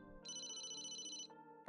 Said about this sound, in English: Ring, ring, ring, ring, ring, ring, phone call, phone call.